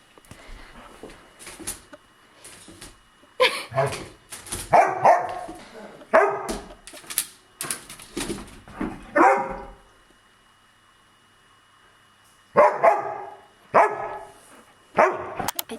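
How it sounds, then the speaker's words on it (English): A dog barks in sharp, close bursts, first in a cluster of repeated barks and then again after a short quiet gap, loud and insistent. "she won't stop barking"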